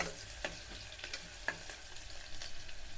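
Onions frying in oil in a home kitchen, a faint, steady sizzle with scattered crackles and pops, heard close with no voices.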